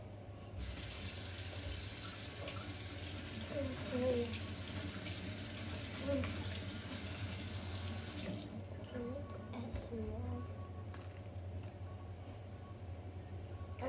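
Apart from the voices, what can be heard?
water running from a tap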